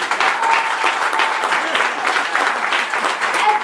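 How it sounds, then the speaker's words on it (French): Students at a school celebration applaud their school director, a dense, continuous burst of clapping from a large group, loud and close, with faint crowd voices mixed in. "c'est comme ça que vous acclamez votre directrice"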